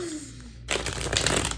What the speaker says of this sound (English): I'm going to do one more shuffle and then we're going to pull a couple tarot cards